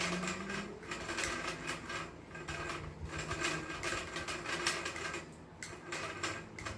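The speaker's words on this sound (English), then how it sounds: "So we're just going to reel, hold tension." A spinning fishing reel is cranked steadily to spool line under tension, giving a continuous close whirring, clicking mechanical rattle that runs throughout without pause.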